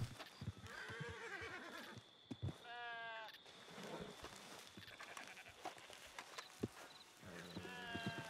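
A horse in Red Dead Redemption 2 whinnies and snorts close up among hoof clops and game sounds, with a voice speaking at times.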